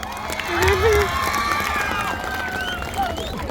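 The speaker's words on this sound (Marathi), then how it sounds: "मिस्टर बाग जोरदार टाळ्या वाजवायच्या" A crowd at a tribal community gathering in Safale, Palghar, applauds and cheers loudly, with whoops and shouts rising over a sustained wash of clapping.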